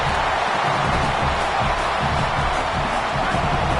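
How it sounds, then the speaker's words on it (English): A large crowd at a football video game roars in support of the defense on third down, a loud, dense wall of cheering that swells and holds steady throughout. "Decibels rising as the crowd gets behind this defense on 3rd down"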